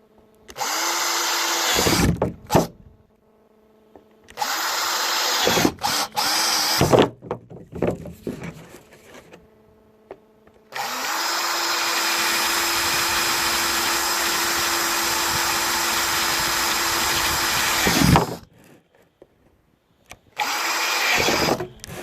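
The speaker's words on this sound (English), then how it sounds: "And the next step, start drilling some holes." A power drill bores holes along a pipe for an automatic chicken nipple drinker, loud sustained whining runs of several seconds each, broken by short pauses and one long continuous drilling stretch.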